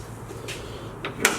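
A single cab Chevrolet Silverado truck door is opened, giving a few sharp latch clicks and clunks close by, the loudest near the end, over a quiet background.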